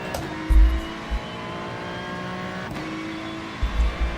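Simulated race car in iRacing, a steady engine drone with harmonic whine running throughout, broken by a few low thumps and a brief shift or braking dip near the middle.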